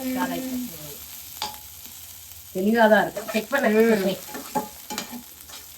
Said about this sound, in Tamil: நல்லா பொடியாக நறுக்கி வச்ச ஆனியனை சேர்த்துக்கலாம்